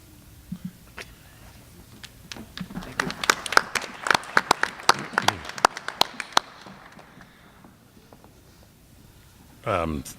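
Scattered clapping from a school board meeting audience, starting with a few hands, swelling into a brief round of applause and thinning out, with a short voice at the end.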